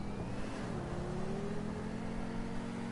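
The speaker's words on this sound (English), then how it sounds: "if you listen closely, you can hear engine" A hybrid car engine in GTA Online hums steadily at low volume, with a tone that dips slightly and then holds, over a continuous background rumble.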